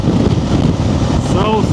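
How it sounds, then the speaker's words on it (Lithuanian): Strong wind beside a highway buffets the microphone in a loud, continuous rumbling roar, with a voice briefly heard beneath it. "Vėjas belenkoks"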